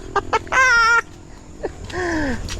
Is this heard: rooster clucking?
yes